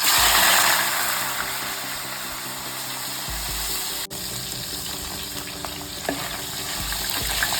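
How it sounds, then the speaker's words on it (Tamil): Cleaned dried fish (karuvadu) frying in hot oil for a brinjal and field bean curry, giving a steady, close, loud sizzle and bubbling hiss throughout, with one brief dip in the middle. "இப்போ இதை பொரிச்சு எடுத்துக்கலாம்."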